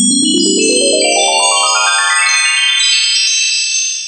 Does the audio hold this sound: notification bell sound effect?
yes